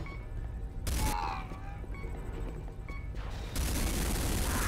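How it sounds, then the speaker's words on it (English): Roof-mounted gun turrets in Command and Conquer Renegade fire in loud bursts, with sharp booming blasts and rattling gunfire over a low rumbling backdrop during a combat mission. "Stupid roof-mounted turrets."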